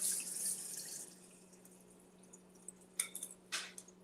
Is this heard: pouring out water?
yes